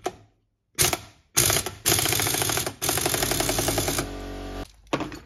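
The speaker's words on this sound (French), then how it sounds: "Et là l'écrou on vient le serrer." A ratchet wrench clicks rapidly while tightening a nut on a 50cc AM6 moped engine, running in several close, loud bursts separated by brief pauses, with no talking.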